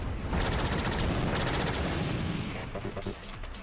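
Rapid gunfire from the video game Ultra Despair Girls, a dense, sustained burst of loud shots filling most of the clip, then tapering into scattered quieter pops at the end.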